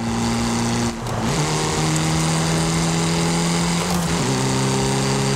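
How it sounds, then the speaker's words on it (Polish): Ford car engine and exhaust in Forza Horizon 5, a loud steady droning note with two brief dips as the car shifts gears, then settling back into a constant tone. "I fura brzmi sobie tak, całkiem przyjemny ten wydech."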